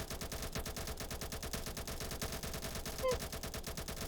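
Rapid continuous gunfire from the Naval Warfare video game, a dense rattling stream of shots like a machine gun firing without pause, fairly quiet and steady for the whole stretch.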